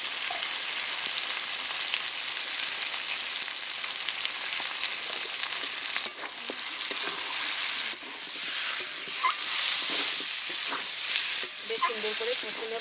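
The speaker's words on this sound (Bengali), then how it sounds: "বেশ কিছুক্ষণ ধরে মাংসটা কষে নিয়েছি" Meat sautéing with spices and turmeric in a pan, a dense continuous sizzle with occasional stirring scrapes and clinks, fairly close.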